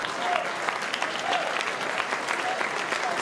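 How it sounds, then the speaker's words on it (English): A stadium crowd at an A-League football match between Newcastle Jets and Wellington Phoenix claps and cheers after a shot, with loud, continuous applause throughout. "Sends one into the stands, but really got the crowd excited"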